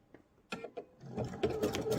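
A sewing machine runs short back-and-forth stitches to lock a seam on a fabric bowl project: a few brief clicks at first, then a steady close mechanical whir that builds toward the end.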